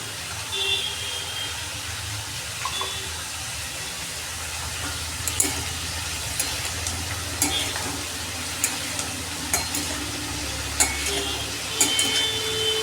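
Chopped eggplant pieces frying in a pan for a gima or tita sakh dish, a steady sizzle with occasional scrapes and clicks from stirring, close and fairly loud with no talk.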